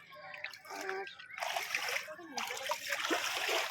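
Splashing through flood water, with irregular sloshes and splatters close by, mixed with voices talking in the background.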